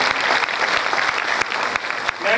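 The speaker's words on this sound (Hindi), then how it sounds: "तालियों से स्वागत करिएगा।" An audience claps steadily throughout, welcoming a speaker to a Shrimad Bhagwat Katha religious gathering in Maharashtra; the dense applause stays loud and continuous with small sharp peaks.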